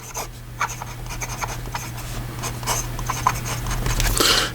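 A steel-nib fountain pen with a medium nib writing in Sailor Yamadori blue-green ink, soft scratchy strokes in quick irregular bursts, close and fairly quiet over a low steady hum, no talking.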